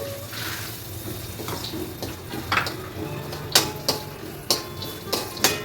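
Peanuts tumbling into hot oil in a pan while making chevda, giving a crackling sizzle with a run of sharp clicks and pops that grow louder toward the end, heard alone.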